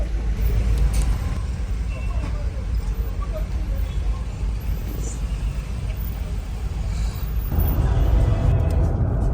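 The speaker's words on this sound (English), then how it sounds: "we are in the middle of all the traffic jams getting around in this big, huge city in Nairobi" Steady low rumble of engine and road noise from inside a minivan crawling through a traffic jam in Nairobi, continuous and fairly loud, swelling slightly near the end, with muffled voices at times.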